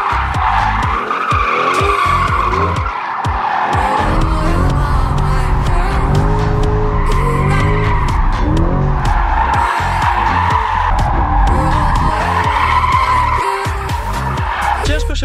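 A new sports car with traction control off does burnouts and slides sideways, tires squealing loudly and continuously over a roaring, revving engine, with no talk.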